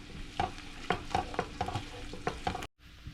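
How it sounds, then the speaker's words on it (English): Mushrooms sauté in a pan with a steady close sizzle. Rhythmic scraping strokes of a stirring utensil sound about every half second, then the sound cuts off abruptly near the end. "we're just gonna saute that for just a few minutes"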